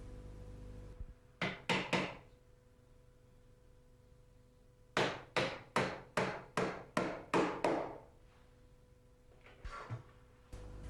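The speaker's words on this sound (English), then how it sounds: "Fix this with pins to the joists." Pins hammered through timber packing into floor joists: a few sharp wooden knocks, then a run of about eight steady blows, then a couple of lighter taps, quiet and close against a still room.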